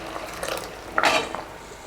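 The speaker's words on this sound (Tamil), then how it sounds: "நான் வந்து இன்னும் கொஞ்சம் போல் தண்ணி சேர்த்துறேன்." Water is poured into a pot of ivy gourd sambar and stirred, with a short splashing pour in the middle and light scraping and clinks of the spoon against the pot, close and alone.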